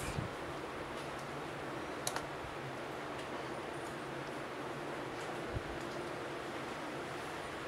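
Keyboard keys tapped sparsely while a command is typed at a computer terminal, with a few isolated clicks over a steady background hiss, close and fairly quiet, no voices.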